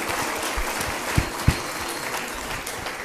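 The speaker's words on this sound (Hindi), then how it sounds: "एक बार जोरदार तालियां आप" Applause from a crowd at a Jain religious discourse gathering, a steady broad patter filling the space with a couple of sharper claps standing out, no voices over it.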